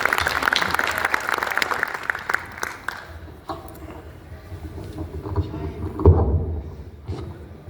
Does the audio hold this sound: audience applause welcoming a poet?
yes